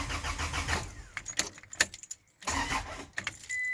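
A car engine cranks over repeatedly without catching, a rhythmic starter churn that stops and restarts with short pauses, fairly close and loud with no talking.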